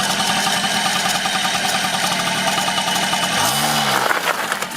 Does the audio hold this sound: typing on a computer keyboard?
no